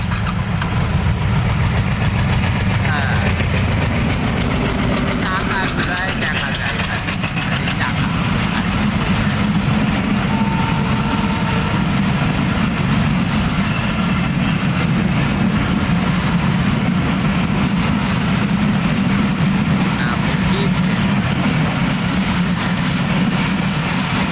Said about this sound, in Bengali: এটা সোনামুখী না পুরাতন সোনামুখী ট্রেন